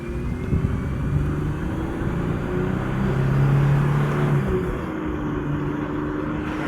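A 2003 Chevy Blazer drives and picks up speed, its engine and road noise a steady loud rumble from inside the cabin, rising and easing as it accelerates, with no speech.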